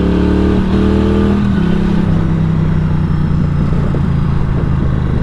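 A Norton Commando 961 SP motorcycle chugs out of a corner in low gear, its engine loud and close with a steady low throb and a rising pitch as it pulls away, with no talking.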